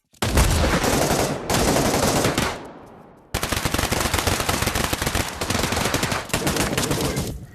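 Sustained automatic gunfire from the VR shooter Pavlov in a competitive match, loud dense bursts with a short lull near the middle before firing resumes steadily to the end.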